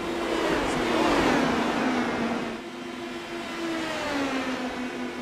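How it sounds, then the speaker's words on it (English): Indy Pro 2000 race car engines in the iRacing video game whine and drone steadily, pitch sliding as they pass, with a dense continuous roar throughout and no voices. "It's crazy to hear these cars bouncing off the racetrack."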